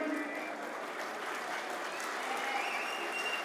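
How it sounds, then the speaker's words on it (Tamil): A crowd at a Tamil community association meeting applauds in a steady, even wash of clapping that continues for the whole stretch, moderately distant and faint. "உங்களுடைய பலத்த கரகோஷங்களுடன்"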